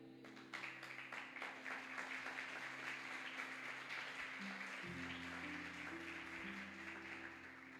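A church congregation claps their hands together in a continuous, rhythmic stream over held instrumental tones, the clapping steady and moderately loud for several seconds, with no one speaking.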